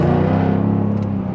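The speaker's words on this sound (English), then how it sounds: "Let's rev this here." A car engine revving while parked, a loud, steady, low rumbling drone with a clear harmonic whine that holds for just over a second.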